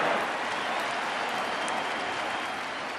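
A packed baseball stadium crowd at an ALCS playoff game between the Rangers and Astros roars and cheers in a steady, loud, sustained wash of noise.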